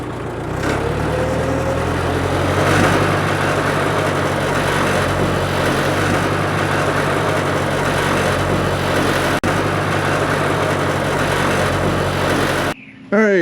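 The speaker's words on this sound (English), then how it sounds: "this is how a Ford is supposed to crank and run. 64 years old and still one of the easiest starting tractors I got" A 64-year-old Ford tractor engine starts and settles into a steady, close, continuous low running note that throbs evenly and holds its level until it cuts off near the end.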